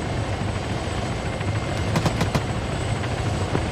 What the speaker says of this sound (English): You saying that's Bravo's heli?